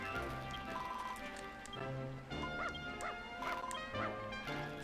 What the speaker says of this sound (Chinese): 是我之前喂过的狗狗